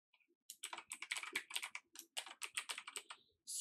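Someone types a project name on a computer keyboard. Two quick bursts of crisp, close keystrokes come in rapid succession, separated by a brief pause, against near silence.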